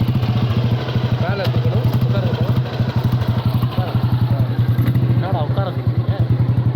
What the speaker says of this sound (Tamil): இந்த வண்டி பார்த்தீங்கன்னா 1990 மாடல், அதாவது ஒரு 34 வருஷம் பழமையான ஒரு என்ஃபீல்டு.